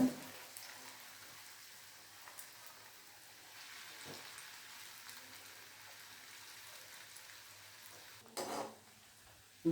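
Bread slices for shahi tukda shallow-frying in oil and ghee, a soft continuous sizzle like light rain, quiet and steady, with a brief clatter near the end.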